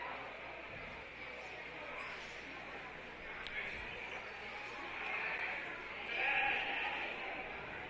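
Sheep at a county fair lamb show bleat faintly over a hazy barn crowd murmur, with a slightly louder bleat near the end.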